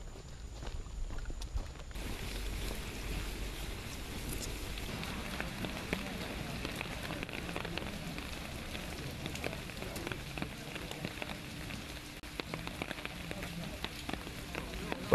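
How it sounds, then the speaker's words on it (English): Steady rain falls throughout, a dense continuous patter with scattered sharper drops, close by and fairly loud. "The rain must be a really good break from the hot weather."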